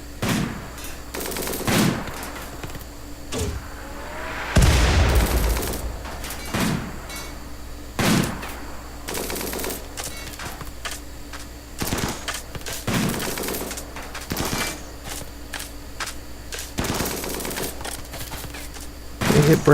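Rapid bursts of gunfire and machine-gun volleys as colonists shoot from behind defenses in the colony sim Rimworld, sharp repeated cracks spaced across the stretch, with no talking.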